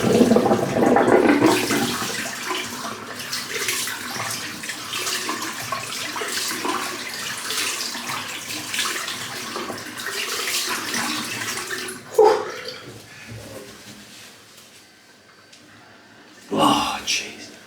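A worn-out bathroom sink runs with a steady rushing water sound for about twelve seconds, then stops, followed by a few brief knocks and splashes in the quiet room.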